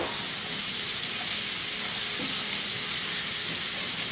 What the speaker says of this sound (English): Now it's time to add our apple. Get that in there, stir it in.